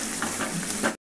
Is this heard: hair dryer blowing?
no